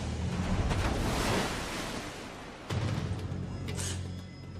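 Artificial tsunami waves surge through a 104-metre concrete laboratory wave tank holding 1,350,000 litres of water, a loud rushing wash that swells, eases, then hits again with a sudden fresh surge.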